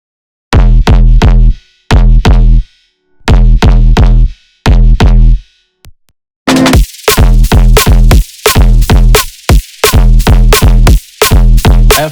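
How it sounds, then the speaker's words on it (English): A deep sub-bass synth layer from a drum and bass drop plays alone in loud, clean pulses, first in spaced short bursts, then in faster, choppier rhythmic hits with a brighter edge. "the most important part of this drop is the sub-bass layer"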